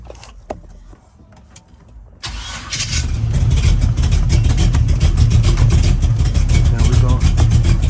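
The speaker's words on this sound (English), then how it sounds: "we're gonna start it up." A car raised on a jack with its tires off the ground cranks briefly after a few clicks, then its engine catches and settles into a loud, steady idle close by.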